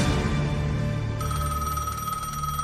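A telephone rings with a bright, sustained electronic tone over a dense, busy background that fills the short stretch.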